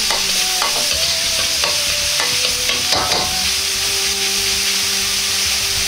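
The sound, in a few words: stir-frying curry ingredients with turmeric in a pan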